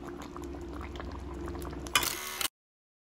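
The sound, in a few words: red chile tamale filling boiling in pot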